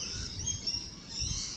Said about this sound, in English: And the birds are really loud.